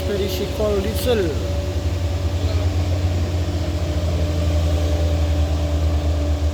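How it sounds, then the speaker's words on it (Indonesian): A diesel expedition truck engine idles with a steady low drone close by, while someone talks briefly over it near the start. "Dan ini dia truk ekspedisi kol diesel."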